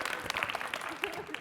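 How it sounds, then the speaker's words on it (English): Audience applause after a keynote introduction at the Fontainebleau Las Vegas, a brief, moderately loud burst of clapping from a crowd with some voices mixed in. "everyone give them a round of applause"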